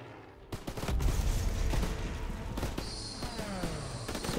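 Battlefield gunfire from the WWII shooter Call of Duty: WWII, with a steady stream of rifle and machine-gun shots over a loud, continuous roar of combat and a sharp burst near the start.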